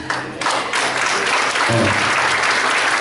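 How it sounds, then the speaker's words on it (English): A church congregation at a conference breaks into dense, continuous clapping that fills the room, steady and loud from start to finish. "Okay, you can clap for that"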